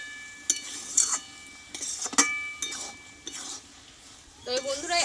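Ash gourd curry is cooked in a pan, with intermittent scraping and clinking strokes of a spoon stirring against the metal and a faint sizzle beneath, the strokes near and irregular.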